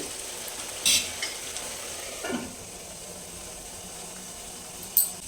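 A spoon stirs a potato and tomato gravy curry in a pan, with a couple of faint scraping strokes and small clinks over a quiet, low background sizzle of the cooking sauce.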